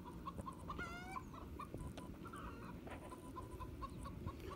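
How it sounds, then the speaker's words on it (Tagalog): Chickens cluck and call softly at a distance in an old historical town in Al Ula, with a faint rooster-like call among steady outdoor background noise. "May manok sila dyan."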